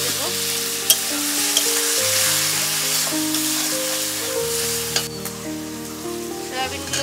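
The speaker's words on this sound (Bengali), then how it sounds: "এবার আমি এর মধ্যে আলু আর সয়াবিনটা দিয়ে দেব" Fried potatoes and soybean chunks stirred into hot oil-rich masala, giving a steady close sizzle with stirring scrapes throughout, no talking.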